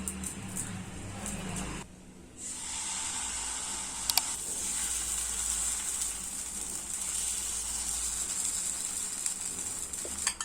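Ghee sizzles on a hot dosa tawa, a steady soft hiss that briefly drops out near the start before resuming, with a couple of small clicks of utensils and no talking.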